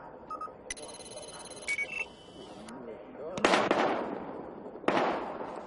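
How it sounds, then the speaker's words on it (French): Gunfire in Battlefield Hardline sounds as two sharp, loud bursts of shots after an electronic beeping and ringing, with voices speaking in between. "On a des coups de feu, on attaque."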